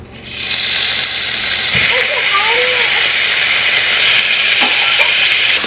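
Food searing in a hot pan, a loud steady sizzling hiss that starts abruptly and holds throughout, with a few faint clinks of utensils.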